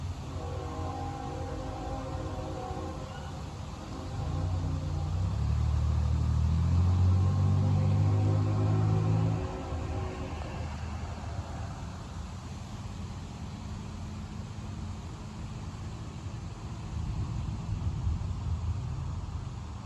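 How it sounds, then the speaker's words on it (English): Deep thunder from a severe summer thunderstorm in Dayton rumbles low and steady for several seconds, swelling mid-clip and again near the end over a constant background roar of wind and rain. "That was some very deep thunder."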